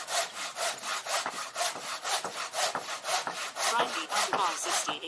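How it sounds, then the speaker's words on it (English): A hand saw cuts through wood for a homemade Halloween coffin, close up, with steady back-and-forth strokes that repeat in an even rhythm for the whole stretch, bright rasping on each pass and no talk over it. "maybe I'll keep on sawing this way"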